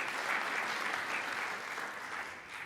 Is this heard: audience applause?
yes